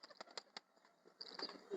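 Pet pigeons feeding on grain make soft pecking taps and low, faint coos nearby, with some light rustling toward the end.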